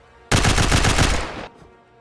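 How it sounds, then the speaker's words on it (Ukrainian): A loud, sustained burst of rapid automatic minigun fire in the video game Last Heli, a fast continuous rattle lasting over a second before cutting off abruptly. "Так, мініган."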